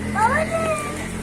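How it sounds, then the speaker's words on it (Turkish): A stray cat gives a short, rising then falling meow, fairly faint against a steady background, with a voice nearby. "Oy bir tane yeni gelmiş bu kedi."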